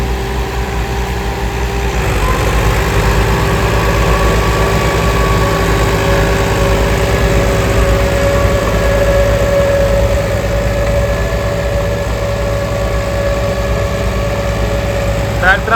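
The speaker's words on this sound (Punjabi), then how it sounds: "ਟਰੈਕਟਰਾਂ ਦੇ ਲੋਡ ਦੀ ਗੱਲ ਕਰੀਏ ਤਾਂ ਟਰੈਕਟਰ ਤਿੰਨੇ ਤਕਰੀਬਨ ਨਾਰਮਲ ਹੀ ਚੱਲਣ ਡਏ ਨੇ" Three tractors running rotavators under normal load make a steady, continuous engine drone with low rumble and vibration, fairly loud and unbroken throughout.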